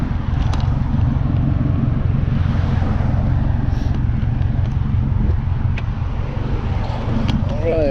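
Loud exhaust roar from 2019 and 2020 Subaru STI cars driving past on a road, a steady throaty drone filling the stretch with a faint whine near the end, while people talk over it.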